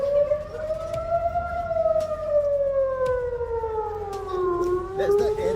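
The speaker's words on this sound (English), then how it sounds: "There's the air raid siren that's just on." A distant air raid siren wails in one long sustained tone that slowly rises and falls in pitch, with faint background noise and occasional clicks beneath it.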